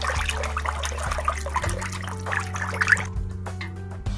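Buttermilk sloshes and swishes steadily as a wooden churner spins in the pot, then the churning stops near the end.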